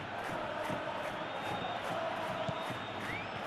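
A stadium crowd in a PES 21 simulation of a Real Madrid vs Bayern Munich Champions League football match keeps up a steady, dense roar with faint chanting, distant and continuous.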